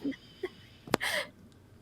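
A single short sneeze, close and fairly quiet, coming after a couple of small breathy sounds and trailing into a brief exhale.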